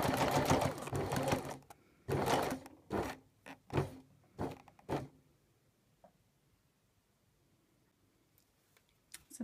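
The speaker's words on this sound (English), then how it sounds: "stitch all the way along to meet the stitches here" A sewing machine stitches a fabric casing in several short bursts, with quick whirring runs and pauses between them, then falls quiet apart from faint handling sounds.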